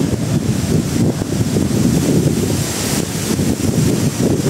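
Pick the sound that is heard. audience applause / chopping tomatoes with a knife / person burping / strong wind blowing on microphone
strong wind blowing on microphone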